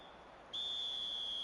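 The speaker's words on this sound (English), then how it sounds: "And the whistle goes for half-time" A referee's whistle blows for half-time in the eFootball video game, one long steady shrill tone that starts partway through and holds loud to the end over a faint crowd-like background.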